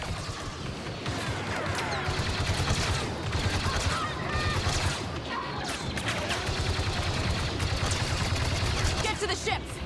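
Rapid bursts of blaster gunfire in a Star Wars Battlefront II battle on Jakku, dense overlapping shots and crashes with game voices shouting over the combat throughout.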